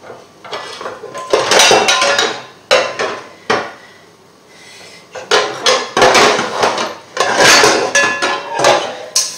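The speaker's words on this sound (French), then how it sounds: "Ensuite, on prend une poêle." A frying pan is pulled out and handled in a home kitchen, with loud close metallic clanks and knocks in irregular bursts, separated by brief quiet gaps, and no voices.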